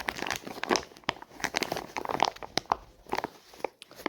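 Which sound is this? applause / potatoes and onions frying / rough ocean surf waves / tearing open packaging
tearing open packaging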